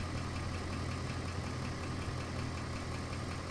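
A Ford 5.4 3-valve engine idles steadily at close range, a continuous low rumble with a faint, even ticking from the lifters or cam phasers running underneath throughout.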